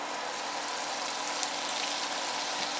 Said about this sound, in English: Now I'm going to melt down some butter down in here.